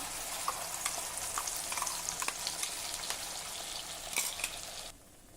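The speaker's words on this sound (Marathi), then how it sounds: "वाटण भाजलं त्याच कढईमध्ये तीन टेबलस्पून तेल गरम करायला ठेवलं यामध्ये हे वाटण घालूया" Spice paste fries in three tablespoons of hot oil in a wok, crackling and spattering steadily up close with frequent pops, then cutting off abruptly into near silence.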